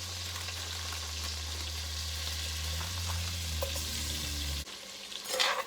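Shrimp for a low-carb keto jambalaya fry in a hot pan, giving a steady, close sizzle over a low hum with a few stirring scrapes, then a sudden drop and a brief clatter near the end.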